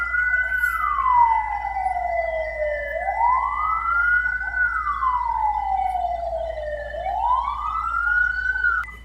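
A fire engine siren wails in slow rising and falling sweeps at a building fire in Palembang, loud and fairly close over a low traffic rumble.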